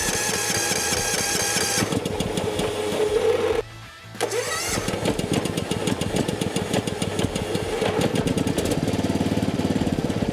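A rebuilt racing lawn mower engine revs loudly and steadily, cuts out briefly, then restarts and keeps running with a rough, rapid mechanical chatter.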